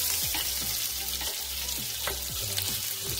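Seeds crackle and pop in hot oil as an onion goes into the pan, giving a steady close sizzle with sharp scattered pops and clicks and no talking.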